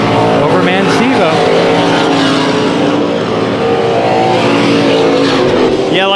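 Dirt track race cars run a heat race at Kings Speedway, engines roaring loud and steady throughout with a dense blended drone and revving swells, while commentators talk over them.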